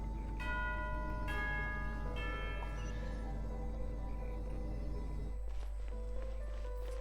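Several bell strikes ring out in the video game Ann of The Narzissenkreuz Quest, clear and resonant with long decays, spaced irregularly over a constant low hum before fading.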